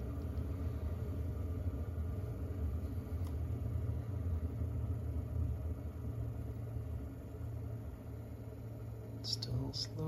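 Diesel heater fan slowly spinning down after shutoff in a homemade tiny cabin, a steady low droning hum holding at an even level throughout, close by, with no talk over it.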